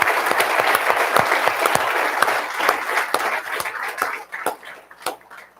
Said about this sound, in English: Let's have another round of applause for everyone we congratulated today